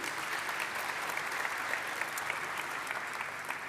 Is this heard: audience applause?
yes